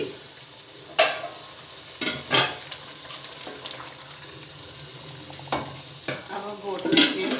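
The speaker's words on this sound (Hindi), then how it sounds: "साग बहुत अच्छी तरह मिक्स हुआ है। अब सारा साग ऐड करते हैं।" Mustard greens for sarson ka saag being added to a pot and stirred: soft sizzling under wet, squelchy stirring, with several sharp scraping clacks of a utensil against the pot at irregular intervals, close up and without talk.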